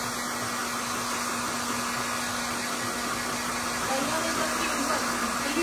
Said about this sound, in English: So I'm going to heat it up real good, and you're going to watch as these bend inwards. And there's the top of my heat gun